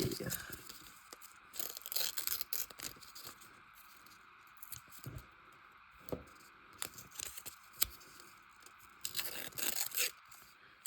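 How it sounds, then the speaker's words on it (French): Paper is torn crookedly by hand for an art collage, with several bursts of close, crisp ripping and crinkling scattered between quiet pauses. "je vais venir, vous l'avez compris, le déchirer de travers"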